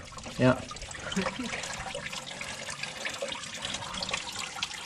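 Green coolant drains from an ATV radiator in a thin trickle and splash, faint and close, with a brief louder gush near the start and quiet talk in the background.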